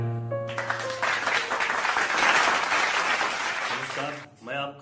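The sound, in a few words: audience applause for poet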